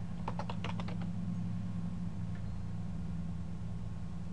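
Short burst of computer keyboard typing, a quick cluster of keystrokes entering a CDP show command for network discovery, heard briefly over a steady low hum, then the keys go quiet.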